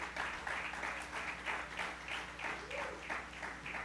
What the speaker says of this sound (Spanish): Dale un aplauso fuerte a nuestro Señor